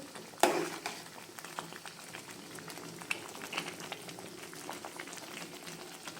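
Egg curry with whole eggs, tomatoes and green and dried chillies boils in a pot, giving a continuous close bubbling and popping with one sharper clink near the start.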